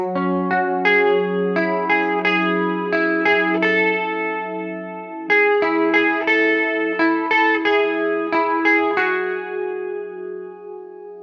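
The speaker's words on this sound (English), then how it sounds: "let's just quickly talk about the lead guitar that we hear over top of the intro" The intro lead guitar line from a song, played on an effects-laden electric guitar with chorus and echo: a melodic run of picked notes over sustained low tones, clean and close with no talking.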